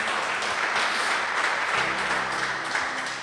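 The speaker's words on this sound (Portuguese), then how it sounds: "Quem pode aplaudir Jesus bem forte?" A church congregation applauds with steady, dense clapping throughout, fairly loud and reverberant.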